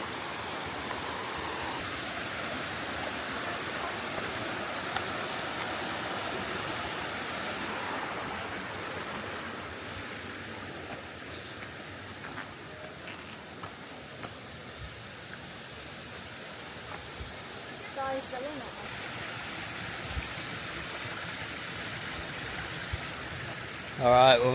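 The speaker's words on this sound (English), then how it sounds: "The waterfall right down there." A waterfall high up at its mouth in the Australian bush, a steady broad rushing roar heard from nearby, with voices talking faintly over it.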